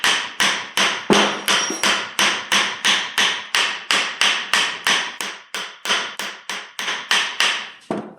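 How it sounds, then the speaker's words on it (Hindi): Steady series of sharp metal taps, around two per second, knocking loose a tight part on a 3 HP Texmo submersible motor; close, crisp strikes with short ringing decays and no voices. "अगर ज़्यादा टाइट हो तो इसको यहाँ से ठपका लेना है, तो ये आसानी से खुल जाएगा।"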